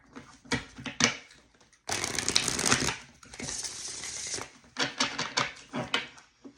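Crisp riffling and shuffling of tarot cards in several bursts, with a longer dense shuffle in the middle and some rustling between.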